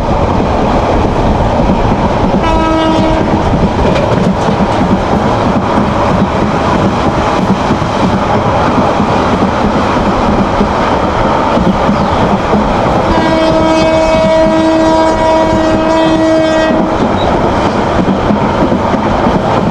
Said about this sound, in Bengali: আমাদের ট্রেন হরেন দিয়ে দুর্দান্ত গতিতে ছুটে চলতেছে।